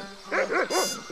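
A dog in the pirate adventure game Monkey Island 2 lets out three quick, close, clear barks in a row, followed by a brief fourth yelp, over a light ambient background.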